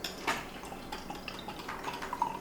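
Kvass beer from Fonta Flora Brewery poured from a bottle, a soft gurgling splash close by, lasting a couple of seconds with no voices.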